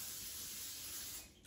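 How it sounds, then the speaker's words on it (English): Non-stick cooking spray hisses steadily into an air fryer basket in one continuous close burst, tapering off at the end. "I will spray the bottom with a non-stick cooking spray"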